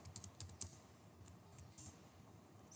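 Quick, light clicks of fingers typing Python code on a computer keyboard, close and fairly quiet, with irregular bursts of keystrokes and brief pauses in between, no voices.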